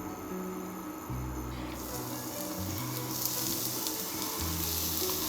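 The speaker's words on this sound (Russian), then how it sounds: "На сковороду наливаем немного растительного масла и выкладываем нарезанный лук." Onions sizzle in hot oil with a steady crackling hiss, while low hums from the kitchen come and go beneath it.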